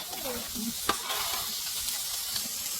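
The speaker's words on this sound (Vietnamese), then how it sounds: "Dùng bơ như thế này để chiên cá, không chỉ có thể làm cho da cá giòn hơn" Fish fries in butter in a pot, giving a steady close sizzle and hiss. Occasional stirring scrapes sound over it, and one sharper tap comes near the start.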